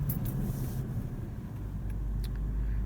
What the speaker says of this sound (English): You can definitely hear that clutch fan when you start it up.